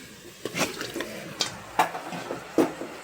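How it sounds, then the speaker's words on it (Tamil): A kilo of chicken is stirred in hot oil in a biryani pot, producing several sharp spoon knocks against the pot over a low sizzling bed, close by with no talk. "போட்டுட்டு அதையே கிண்டி விட்டுக்கலாம்"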